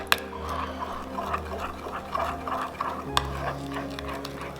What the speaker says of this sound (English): Then you're going to mix it up so it's nice and mixed.